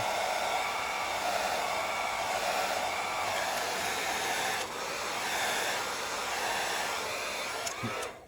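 A heat gun blows a steady, loud, continuous roar of hot air while heating the plastic on a Ceronix 1493 monitor circuit board, holding almost unchanged throughout with a brief dip partway through.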